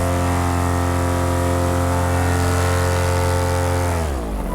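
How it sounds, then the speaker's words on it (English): A MacFly paramotor engine runs loud and steady at full throttle with a strong, even drone, then winds down in pitch near the end. "This motor, I can go full throttle on."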